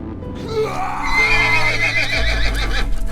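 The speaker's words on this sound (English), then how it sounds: "Furious, Alexander jumped onto his horse and galloped off towards the palace" An animated horse lets out a loud, close whinny, and low hoofbeats follow as it gallops off toward a palace, all in about three seconds.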